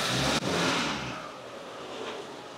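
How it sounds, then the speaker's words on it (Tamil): Car engine given a gentle rev during an idle inspection after a spark plug change, a steady mid-pitched hum that swells briefly then settles back toward idle, close and alone. "ஓகே ரேஸ் பண்ணி பார்ப்போம் மெல்லமா."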